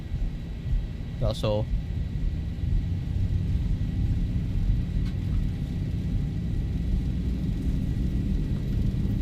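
A Zibo 737 in X-Plane 12 at takeoff thrust gives off a steady, loud, broad engine rumble that fills the whole stretch, while a voice speaks briefly near the start.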